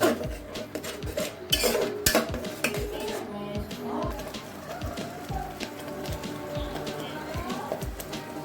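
Goat head curry is stirred in a metal pan, with repeated spoon scrapes and clinks in an irregular rhythm, close by, while a person talks over it.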